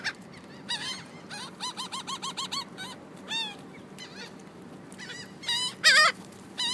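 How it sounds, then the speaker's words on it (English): A flock of seagulls calls loudly nearby in a string of harsh, honking cries, spaced irregularly at first and then bunching into louder overlapping squawks toward the end. "These seagulls are assholes."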